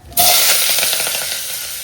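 Onion, green chili and curry leaves drop into hot oil, setting off a sudden loud sizzle that holds steady and then eases slowly, close and alone.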